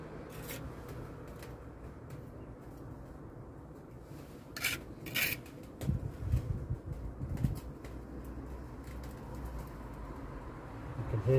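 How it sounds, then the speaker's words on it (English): A pigeon moves about overhead while a cobbled wall is restored: soft, low cooing murmurs and scratchy rustling shuffles, faint and intermittent over quiet background scraping. "Yep, it's a pigeon, I can hear it."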